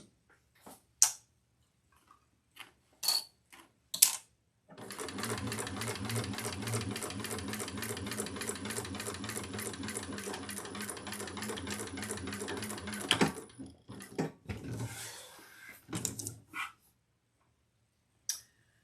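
A sewing machine stitching a handbag runs in one long, rapid, steady burst of close mechanical ticking for about eight seconds, framed by scattered handling clicks and thumps before and after.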